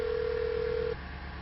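Telephone tone on a call that will not connect: a single steady beep lasts about a second, then gives way to faint line hiss, with no talking.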